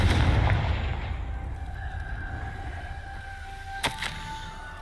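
Confringo fire spell blast in Hogwarts Legacy, a heavy booming burst at the start that decays into a lingering rumble with a faint tonal hum, followed by a sharp brief crack near the end.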